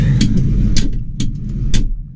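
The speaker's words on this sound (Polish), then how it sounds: "Odpalimy sobie ciągnik." A New Holland T6.175 tractor engine turns over and settles into a deep, close rumble, with sharp mechanical ticks recurring at a fairly even rhythm.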